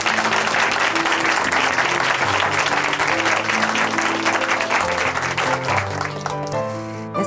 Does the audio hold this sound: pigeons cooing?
no